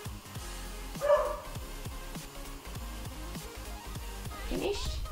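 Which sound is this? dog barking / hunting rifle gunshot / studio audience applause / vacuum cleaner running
dog barking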